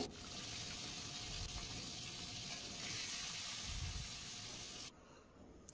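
Bhetki (barramundi) fish pieces sizzle in hot oil in a kadai with a steady, dense hiss that holds evenly, then drops off abruptly near the end; no voices.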